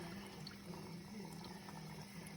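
A newly installed dishwasher fills with water, a steady low rushing and trickling flow with a faint hum, continuous and fairly quiet throughout.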